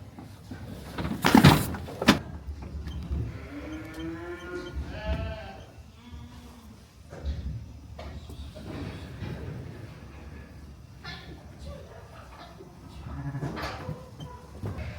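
Sheep bleat repeatedly inside a barn during scanning, with several clear, close calls, some overlapping and drawn out, over steady background shuffling and a sharp clatter early on.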